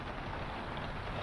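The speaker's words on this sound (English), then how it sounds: "once again it is raining pretty hard out there" Heavy rain pours outdoors late on a gray autumn afternoon, a steady broadband hiss of drops with a faint wind rumble, continuous and fairly close, no voices.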